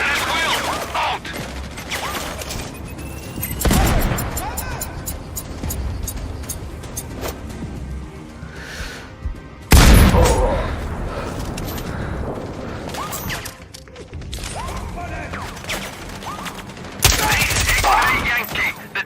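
Gunfire in the video game Sniper Ghost Warrior Contracts 2: a few loud, sharp shots stand out over steady mechanical clatter and busy in-game ambience, with quieter gaps between them.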